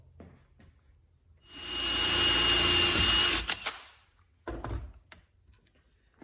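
Power drill boring holes for stainless steel screws in an aircraft wing on a Zenith CH 750 CruZer build, a steady whine lasting about two seconds, then clicks and a brief second burst nearby.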